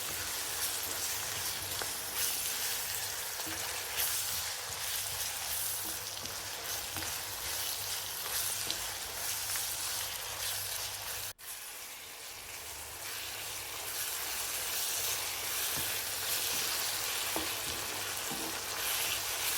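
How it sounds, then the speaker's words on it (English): Chopped tomatoes and onions fry steadily in a pan for a curry masala, a dense continuous sizzle and crackle heard close up, with a brief stir-like dip midway and no talking. "Now add 2 chopped tomatoes and cook them with the onions until they soften and meld together beautifully."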